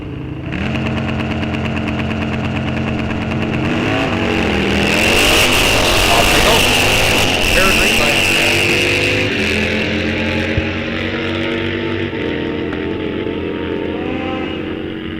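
Drag racing motorcycles launching down the strip at Rock Falls Raceway, with loud engines roaring and revving up through the gears. The roar swells and then fades as the bikes pull away, with a crowd ambience underneath.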